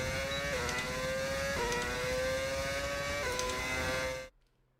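A modded engine on a Benetton car in the F1 25 racing game whines loud and close, its pitch climbing through three or four gear changes before cutting off abruptly into near silence at the end.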